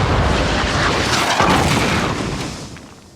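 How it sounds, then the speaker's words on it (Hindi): A cartoon tank-style cannon fires, a loud booming blast with a broad rumbling burst that holds for a couple of seconds and then slowly fades, no voices over it. "टाइगर की तोप का तो जवाब नहीं।"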